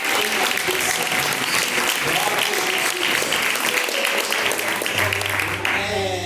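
Continuous loud applause fills a church service, with voices mixed into the clapping and a low sustained tone entering near the end.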